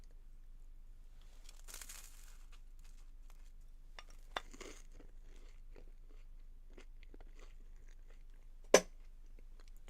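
A few crisp crunches from biting into a local banana snack from a Chernobyl-area village, sparse and close, with one sharp louder crunch near the end over a quiet background.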